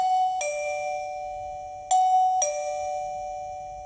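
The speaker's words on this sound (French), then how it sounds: "le son de la sonnerie est plutôt clair et fort" A Govee wireless doorbell chime rings clear and loud, sounding two ding-dong tone pairs with a short pause between them in a quiet room.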